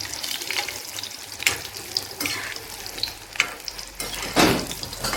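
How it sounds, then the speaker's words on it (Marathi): Bhaji fritters frying in hot oil give a steady close sizzle and crackle, with a few louder splutters as batter drops in. "हे बघा, भज्जे सोडून देत आहेत"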